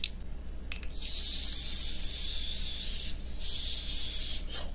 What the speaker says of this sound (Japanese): そう、これスプレーで霧状に。